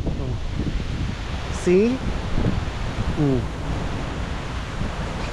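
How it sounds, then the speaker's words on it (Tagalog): Strong storm wind roars steadily in San Diego, a loud continuous rushing that buffets the microphone, while a person speaks briefly over it. "Sobrang ano to, sobrang mahangin na siya."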